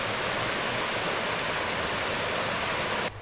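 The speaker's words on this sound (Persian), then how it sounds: "آبشار مه گرفته کامل، چقدر زیبا شده." Angel Falls, a towering waterfall in Venezuela, gives off a dense, continuous roar of falling water that stays steady throughout and cuts off abruptly at the end.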